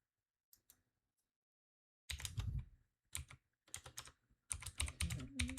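Bursts of typing on a computer keyboard, quick clusters of clicky keystrokes separated by pauses, close and fairly quiet, after a near-silent opening with a few isolated taps.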